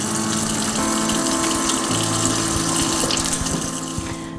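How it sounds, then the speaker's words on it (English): A sauté pan is rinsed under a running kitchen tap, loud steady gushing water close up with splashing as the pan is turned, easing off slightly at the end. "I'm just gonna go give this a little wash off because I have cross-contaminated it with some lamb juice"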